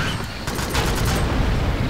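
Gunfire and an explosion from the sci-fi shooter Alien Swarm form a dense, loud, continuous barrage of rapid shots with booming blasts, filling the whole stretch with no pause.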